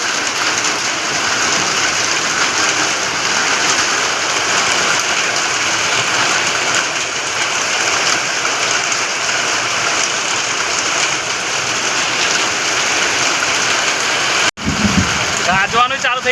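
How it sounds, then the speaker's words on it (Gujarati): Heavy storm rain pours steadily and loudly for about fifteen seconds as a dense, unbroken hiss, then a sudden break and rustling disturbance at the end. "વરસાદ પાછો ચાલુ થઈ ગયો છે"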